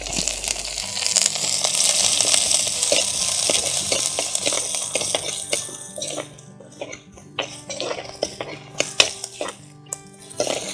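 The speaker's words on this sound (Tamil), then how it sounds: "இஞ்சி இப்போ கொஞ்சம் நல்லா வதங்கினதுக்கப்புறம் பூண்டு" Ginger and garlic sauté in oil in a clay pot for a Kerala-style fish curry, with a steady sizzle and scraping stirs that thin out into scattered clinks and taps toward the end.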